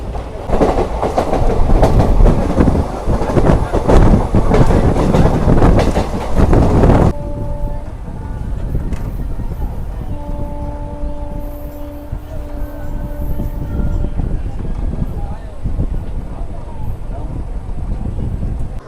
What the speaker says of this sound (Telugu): సో మన ట్రైన్ వచ్చేసి చిత్తూరు నుంచి అయితే బయలుదేరిపోయింది